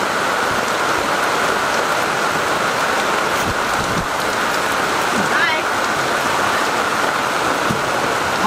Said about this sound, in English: When it is raining hard, the rain flattens out the waves